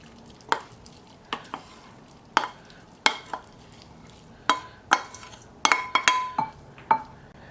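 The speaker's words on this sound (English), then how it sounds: "Next, we go in with our ground beef." Ground beef cooking in a pan for a childhood comfort-food casserole, with sharp scraping and clinking of a utensil stirring at irregular intervals over a quiet, faint sizzle, up close with no talking.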